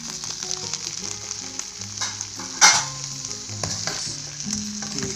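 Eggplant fries in a pan with oyster sauce, pepper and dried anchovies as it is stirred. A steady sizzle runs throughout, broken by scraping stir strokes and one sharper clatter near the middle.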